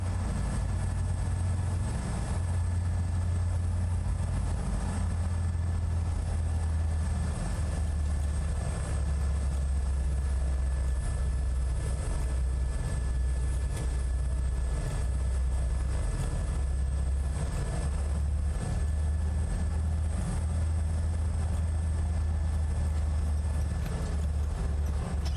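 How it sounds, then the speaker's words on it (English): A helicopter in Microsoft Flight Simulator 2024 gives a continuous low throbbing rotor drone with a steady engine whine above it, unchanging and sustained throughout. "So what helicopter is that?"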